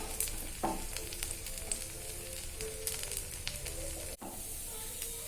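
A rava (semolina) dosa cooks in oil on a hot pan over medium flame, producing a soft, even hiss and faint crackle, fairly quiet and steady, with one brief dip near the end.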